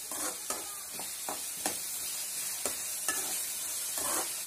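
Chopped onions with salt sauté in a hot pan, a steady broadband sizzle with regular scraping stirs every half second or so, close and fairly loud, no talking.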